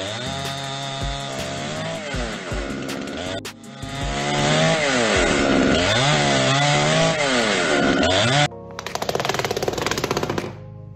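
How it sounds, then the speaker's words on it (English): A Stihl MS-881 gasoline chainsaw roars and revs up and down in repeated surges, loud and close, then sputters at a rougher idle. "MS-881 is an absolute beast, the most powerful chainsaw in the world."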